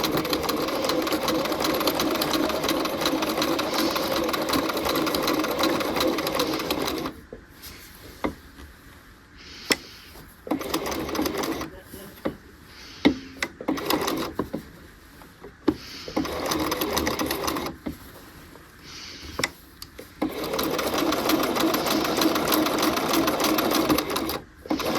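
A sewing machine runs a seam on a half-scale jacket from shoulder toward center front, whirring steadily for about seven seconds, then giving way to quiet handling clicks and short bursts before a final long continuous run.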